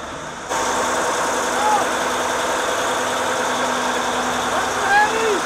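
Steady, loud engine drone with a constant low hum from a container ship's engine room, its two 1200 hp motors running, with faint squeaks over the noise.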